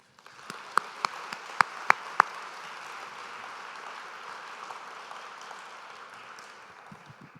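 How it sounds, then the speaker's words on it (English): Steady applause from an audience, a broad wash of clapping with a few sharp nearby claps early on, fading slightly toward the end. "Can we just give a round of applause to that incredible panel?"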